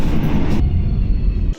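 A train rolling along the rails on a long journey in Poland, a loud, close, steady rumble of wheels and carriage noise that drops away abruptly near the end.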